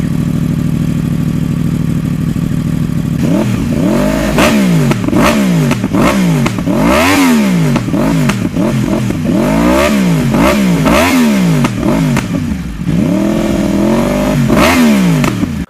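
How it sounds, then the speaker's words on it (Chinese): A Yamaha YZF-R1M with a liquid-cooled 998cc four-stroke inline-four and crossplane crankshaft revs repeatedly, loud and close, rising and falling in sharp blips from a steady idle. "先大家听一下 R1M 发动机声浪"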